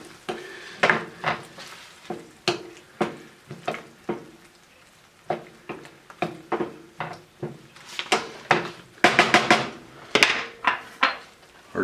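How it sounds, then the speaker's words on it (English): Heavy cream being stirred into a chicken marsala sauce in a pan, giving a series of close, uneven scrapes and taps of a utensil against metal over a soft bubbling sizzle. "Stir that in."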